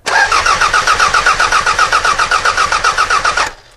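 A car engine with a blown head gasket cranks on the starter for about three and a half seconds, loud and close, its rhythmic chug pulsing unevenly from uneven compression before cutting off.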